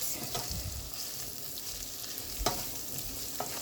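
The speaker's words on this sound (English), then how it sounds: "Stir fry, get its own color." Pepper steak stir-frying in a pan, a steady close sizzle with occasional scraping stirs and small clinks, with no voices.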